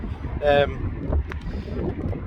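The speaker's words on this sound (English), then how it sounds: "It's quite windy now. Sorry if you can't hear us properly." Gusty wind buffeting the microphone in low rumbling bursts outside a toy fair, with a brief voice-like tone and some faint movement noises.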